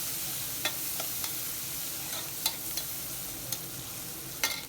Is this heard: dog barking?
no